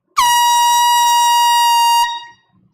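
An air horn sounds in a record store to celebrate a customer's purchase of $500 or more: one loud, sustained blast lasting about two seconds, then a quick fade.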